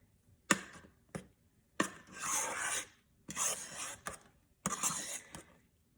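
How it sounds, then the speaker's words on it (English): A fruit dip mixture folded into soft cream cheese in a bowl, heard as five close, separate bursts of thick, squelching scraping, each about a second long, with brief quiet gaps between them. "We'll just fold it like that right into the cream cheese."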